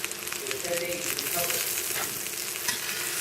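Burgers topped with pepper jack cheese sizzle steadily in a pan, a dense, continuous frying hiss with faint crackles, close and even throughout with no talking.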